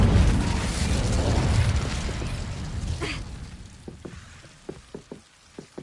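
An Incendio fire spell blast in the Hogwarts Legacy video game, a sustained loud roaring rush that gradually dies down, followed by a scatter of sharp, faint crackles and pops.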